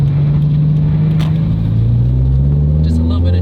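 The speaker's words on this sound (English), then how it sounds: "Let's give her a little bit of juice." A turbocharged car engine revs up with a steady low rumble that rises in pitch, close by and loud, with people talking over it.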